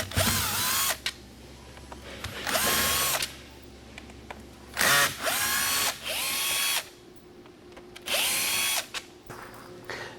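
A power drill backs screws out of the trim rings on a SleepSafer tall bed extension, giving several separate whirring bursts of a few seconds each with short pauses between them, close and loud.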